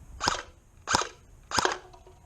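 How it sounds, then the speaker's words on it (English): An ICS airsoft M1 Garand rifle fires at cups: three sharp, snappy shots spaced about two-thirds of a second apart, each a crisp crack with a short tail, close and fairly loud over quiet background. "now I'm gonna shoot the green cup that was near it"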